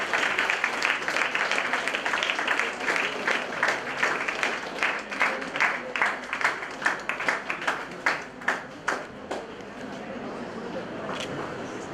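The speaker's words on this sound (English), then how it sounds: "A big round of applause to my team who are there to support me" A round of applause for a team at a panel discussion, many hands clapping together in a steady rhythmic beat that swells, then thins into scattered claps and fades into room murmur.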